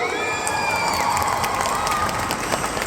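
A crowd at a stage event bursts into dense applause and cheering with shouts mixed in, loud and sustained throughout the short stretch.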